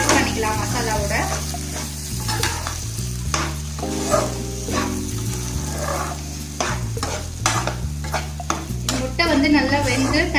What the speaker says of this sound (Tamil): இப்போ நல்லா மிக்ஸ் பண்ணிக்கலாம் மசாலாவோட.